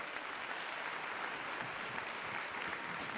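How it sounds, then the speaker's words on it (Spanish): Distant crowd applause at an outdoor welcome event for the Three Kings, greeting the royal page; a soft, continuous patter of many hands, faint and even. "Recibe este fuerte aplauso"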